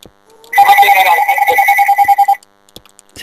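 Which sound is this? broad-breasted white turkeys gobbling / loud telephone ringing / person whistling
loud telephone ringing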